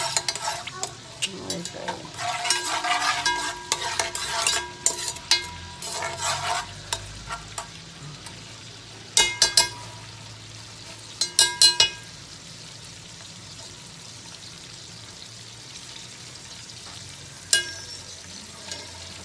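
Ginger is stirred into browned onions frying in a pot for beef pulao: bursts of spatula scraping and clinking against the pan over a low sizzle, with quiet gaps between stirs.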